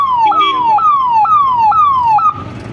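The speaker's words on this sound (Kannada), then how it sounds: "ಈ ಸೈರನ್ ಬಂತು" Loud electronic police and fire service emergency siren during a wartime preparedness demonstration in Chikkanayakanahalli taluk, Karnataka, repeating a falling wail about every half second, four or five cycles, then breaking off into a noisy rumble near the end.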